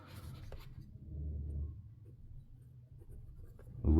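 Pencil scratching on paper at close range, a low steady scraping texture lasting a few seconds, with a brief louder knock at the end and no talking.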